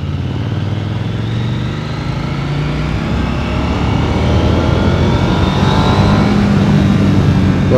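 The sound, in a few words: KTM Duke 890L motorcycle engine sound in a tunnel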